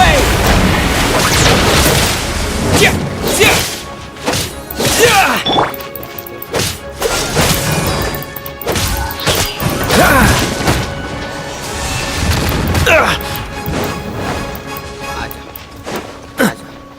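Bombs exploding in Genshin Impact land as repeated loud thumps and crashing blasts in irregular succession, mixed with swooshes and game effects, with a voice talking over parts of it.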